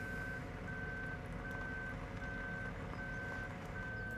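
A vehicle reversing in Farming Simulator 17 gives a regular series of high beeps, evenly spaced and repeating about six times, over a steady low engine rumble.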